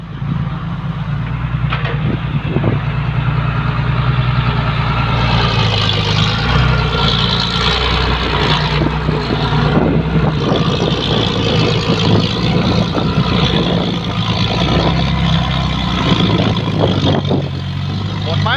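A pickup truck engine revs hard and steadily while climbing a difficult uphill stretch, loud and continuous throughout with people talking over it.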